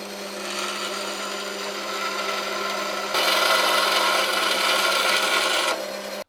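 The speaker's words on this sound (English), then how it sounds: "Now I'm going to take it over to my bandsaw to cut it out." A bandsaw cuts out a knife blade profile, giving a steady, loud rasping whine with a constant hum that grows harsher partway through the cut before easing off at the end.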